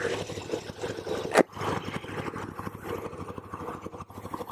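A 2017 KTM 1290 Super Duke R motorcycle engine rumbles steadily at idle, a close, continuous low throb with one sharp mechanical knock partway through.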